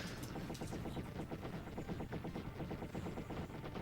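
Rapid, continuous gunfire in the Wild Guns video game, a dense rattling stream of shots at an even fast rhythm, steady and unbroken throughout.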